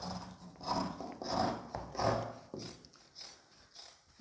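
Scissors cut fabric for a nighty in a series of close, crisp snips and blade rasps, coming in a loose rhythm about every half second.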